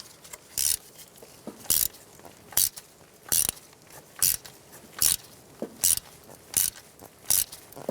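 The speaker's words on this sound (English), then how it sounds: "Using a T30 Torx bit, I'll remove these Torx screws for the fuel rail." A ratchet driving a T30 Torx bit clicks in short repeated bursts, about ten rapid ratcheting strokes, while fuel rail screws are backed out on a 1994-2004 Chevy S10, close and with no talk.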